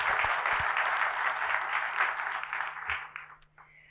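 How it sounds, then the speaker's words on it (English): Audience applause for award honorees at a ceremony, a dense, sustained wash of clapping that thins and tapers off toward the end, with a few louder isolated claps near the close. "let's give another round of applause for our 2024 Bennie Award honorees"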